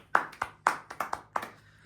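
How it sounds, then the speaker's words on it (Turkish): Seven separate hand claps spaced unevenly, sharp and close, in a quiet room with a faint steady hum underneath and no talking. "Kendine de alkış yap"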